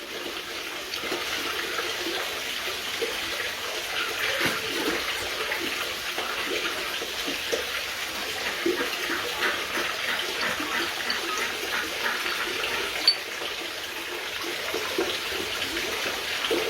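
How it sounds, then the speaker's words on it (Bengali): Water being stirred into a mixture prepared for injecting Vietnamese koi fish, a steady splashing, swishing wash of liquid that continues close and even with no talk over it. "তো পানি দেওয়ার পরে আবার ভালোভাবে গুলে নেবেন।"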